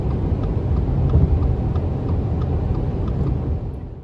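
A Subaru Forester Sport on Falken Wildpeak A/T Trail tires cruises a highway, its steady low road roar and tyre hum droning evenly from inside the cabin, easing slightly at the end.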